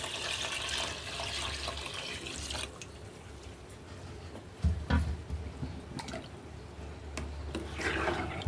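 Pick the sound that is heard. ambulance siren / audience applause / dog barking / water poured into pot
water poured into pot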